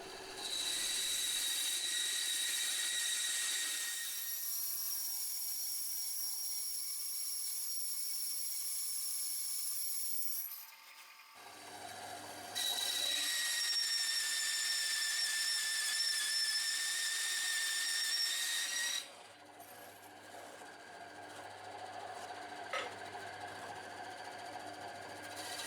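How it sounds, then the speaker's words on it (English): Bandsaw rough-cutting a block of aluminium, pink soap on the blade, a steady high whining hum broken into two long cutting stretches with quieter running between, close and without talk. "Now it's off to the bandsaw to give it a rough cut, and of course some nice pink soap on the blade."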